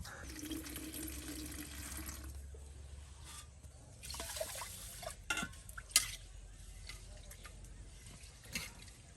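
Rice is swished and rinsed in water, a soft, uneven sloshing with occasional splashes and drips, fairly quiet and close, with a low hum underneath at first.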